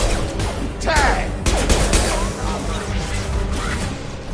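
Video game gunfire during a PS4 session, rapid bursts of shots and crashing impacts packed densely together, loud and continuous, with voices talking underneath.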